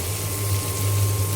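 Water pours steadily into a cooking pot of onions with ginger, cumin and garlic paste, a continuous close rushing flow with no talk.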